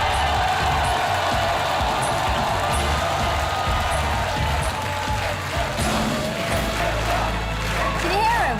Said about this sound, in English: Can you hear them? They're cheering for you.